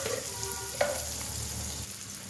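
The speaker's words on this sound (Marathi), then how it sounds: "आता ही फोडणी तयार झाली की त्याच्यामध्ये घालायचा कांदा" Onion sizzling in hot oil tempered with mustard seeds and turmeric, a steady close frying hiss with a brief clatter of stirring partway through.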